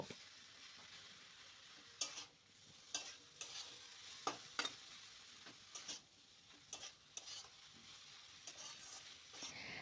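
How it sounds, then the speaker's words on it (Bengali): Potatoes and cabbage stirred in a frying pan, soft sizzling with a string of sharp scraping and clinking strokes of a spatula at irregular intervals, close and fairly quiet. "এবার আলুটা দিয়ে আবারও আমি দু মিনিটের জন্য একটু আমি নেড়ে চেড়ে নেব"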